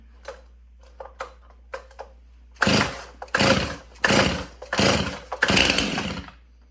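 A Stihl MS 291 Farm Boss chainsaw on full choke with the brake on: several quick pull-cord rasps, then four or five loud sputtering bursts as the engine catches briefly and dies, close up with no talking.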